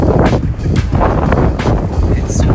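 Strong wind buffets the microphone on a busy beach in Aruba, a steady low roar with gusty surges filling the whole stretch while people talk nearby.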